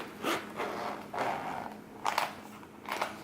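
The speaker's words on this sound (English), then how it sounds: "zipper." Zipper on a V-Moda Crossfade M-100 headphone case being pulled open, close and fairly quiet, in several short rasping strokes with brief pauses between them.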